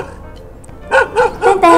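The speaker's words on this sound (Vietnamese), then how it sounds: "Đây là tiếng của con vật, con chó đấy." A dog barks four times in quick, loud succession, close by, after a short quiet lead-in.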